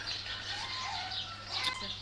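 Rooks' wings flap in a soft, continuous flutter as they fly close by in a zoo, with a few faint chirps mixed into a noisy outdoor background.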